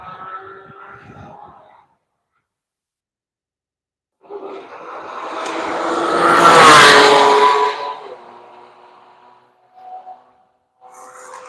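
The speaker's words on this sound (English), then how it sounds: "So here comes the Bimmer World M4 coming through." A Bimmer World BMW M4 race car runs past on the Road Atlanta circuit, its engine rising out of quiet to a loud, close drive-by before fading away, with brief faint engine sounds afterward.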